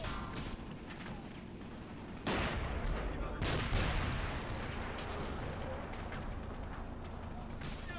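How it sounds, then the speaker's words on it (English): Sustained machine gun fire in the WWII strategy video game Men of War: Assault Squad, continuous rattling bursts mixed with louder gunshots and explosions in a dense battle din, with a voice speaking over it. "MG is just firing like full-time job."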